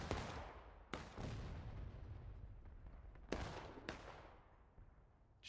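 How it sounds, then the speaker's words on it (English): Artillery booms in the Civil War video game War of Rights during a historical rules event. Several heavy cannon shots crack and roll out, some close and sharp, others more distant, over a steady rumble of battle noise. "The friendly artillery shooting at infantry."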